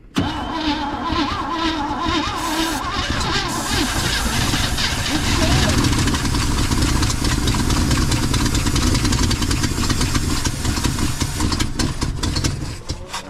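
A 1963 Chevy Nova engine, running for the first time in 20 years, roars loud and close for the whole stretch, with the throttle held steady, while people talk over it.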